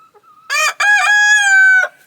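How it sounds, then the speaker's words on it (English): A flock of Easter Egger chickens in a backyard homestead coop: a short cluck, then a loud, close rooster crow in several drawn-out segments, heard alone without talk. "So this is the Easter egger flock."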